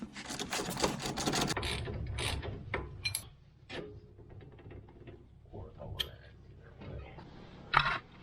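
Ratchet loosening the bottom shock mount bolt on an ATV during wheel bearing service: a dense run of ratcheting clicks, then scattered metallic clanks and tool handling, close and moderately loud.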